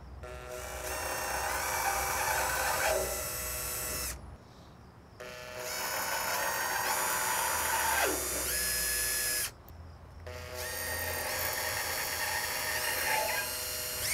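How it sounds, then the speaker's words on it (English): A power drill whines steadily in long runs while drilling metal valves on a Camp Chef flat top grill, stopping twice for a few seconds before starting up again, loud and close. "drill slow and straight"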